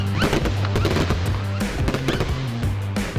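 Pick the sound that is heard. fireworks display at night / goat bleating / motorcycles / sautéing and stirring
fireworks display at night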